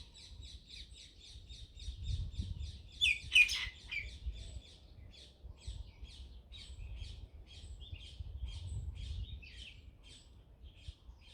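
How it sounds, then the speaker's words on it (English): Birds chirping outdoors: a steady run of rapid, high tweets and calls with one louder squawk burst, heard over a low background rumble. "The birds have a lot to say."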